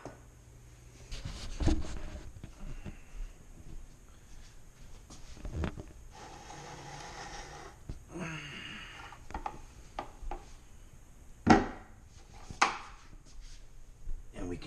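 Grain being stirred into water in a plastic homebrew bucket while mashing an all-grain IPA gives off intermittent scraping, rubbing and knocking close by, with a few sharper thumps toward the end.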